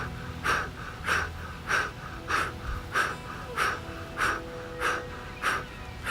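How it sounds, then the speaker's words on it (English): Forceful rhythmic breathing exercise, sharp exhalations pushed out as if blowing at a distant candle, about ten strong bursts at an even pace of roughly one every half second or so, close and clear with no speech. "Use that breath as if you're trying to blow out a candle that's far away from you."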